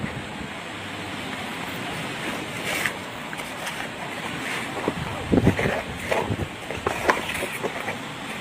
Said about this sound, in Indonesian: Masih terdengar deru dari air laut yang ada di depan kita